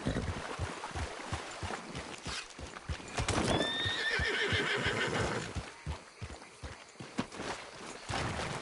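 Horse hooves clip-clop steadily in Red Dead Redemption 2, and a clear whinny rises in the middle; the hoofbeats stay loud and close throughout.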